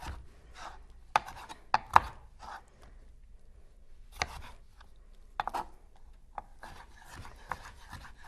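A knife cuts a tomato into bite-sized pieces on a cutting board, with irregular soft slicing strokes and sharper taps against the board, close and quiet.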